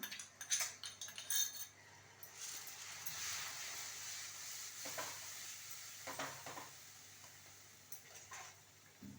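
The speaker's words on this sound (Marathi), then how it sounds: "दही टाकल्यानंतर सतत हलवायचं आहे, कारण दही फाटू नये म्हणून" Spoon stirring masala in a pan after beaten yogurt is added for besan gatte, a soft steady sizzle under repeated close scraping strokes, with no talk.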